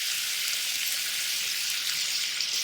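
Tofu frying in a pan with oil, a steady, dense sizzle that runs close and loud throughout, with no voices.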